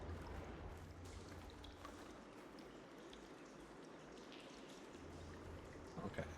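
Water flows and trickles steadily at a low level in the video game Horizon Forbidden West, a soft continuous rushing with faint drips and no voices.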